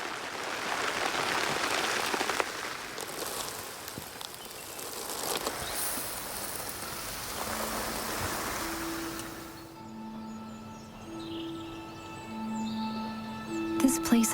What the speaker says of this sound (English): The short yet heavy rain showers.